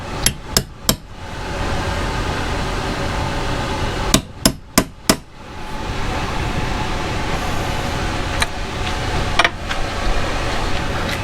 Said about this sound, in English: So for me, I'm going to use a punch with a hammer.